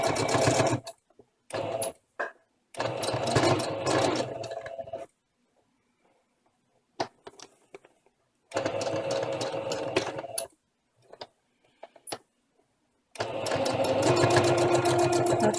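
A sewing machine stitches around ribbon embellishments in several bursts of rapid, even whirring, each running a second or more and separated by quiet pauses and a few faint handling clicks, close and clear.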